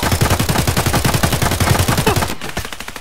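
Loud, sustained automatic gunfire in the shooter game Escape From Tarkov, a fast, steady stream of close shots aimed at an enemy PMC, running for over two seconds before cutting off abruptly.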